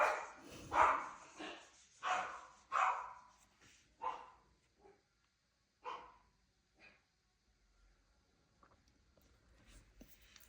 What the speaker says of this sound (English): please don't tell me they're going to start barking because that's going to really annoy me